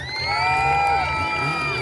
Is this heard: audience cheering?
yes